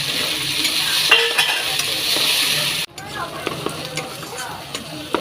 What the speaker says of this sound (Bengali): ভালোভাবে নাড়াচাড়া করে নেব।